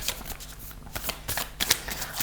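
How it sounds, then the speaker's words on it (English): Affirmation cards are shuffled by hand in a quick, close series of riffling flutters and soft slaps, crisp and rhythmic over about two seconds with no talking. "I will pull another affirmators card just for practical"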